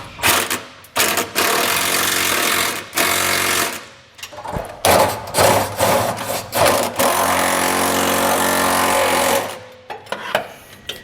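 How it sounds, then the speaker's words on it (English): Impact wrench driving a 3/4 inch socket onto the nuts of a fifth wheel underbed hitch kit being fitted to a 2022 Ford F-350, loud close bursts of hammering rattle, several long runs broken by short pauses, with no talk. "tighten on the nut side with my 3/4 inch socket on my impact"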